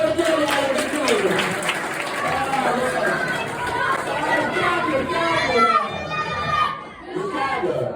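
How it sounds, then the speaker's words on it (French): Audience applause at a stage magic show, a continuous broad wash of clapping mixed with crowd chatter and shouts that fades briefly near the end. "vous l'applaudissez quand même"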